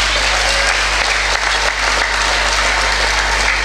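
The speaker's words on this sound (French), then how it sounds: "Acclamons pour Dieu qui nous aime" A church congregation bursts into loud, sustained applause at a celebratory Mass in Brazzaville, a dense, steady wash of clapping hands filling the space with no voices standing out.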